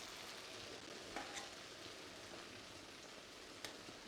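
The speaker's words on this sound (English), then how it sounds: "Cooking my noodles." Noodles cooking in a pan for sticky sweet tofu: a soft, steady sizzle and hiss with faint stirring clicks now and then, quiet and close with no talking.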